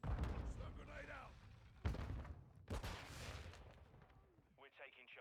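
A stun grenade detonates in a military shooter video game, landing as a sharp, loud bang that leads a string of heavy booming blasts and gunfire, with voices talking through the noise.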